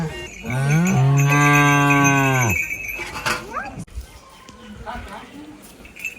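A cow gives one long, loud, deep moo close by in a village during the Sankranthi festival, followed by people talking and other background noise.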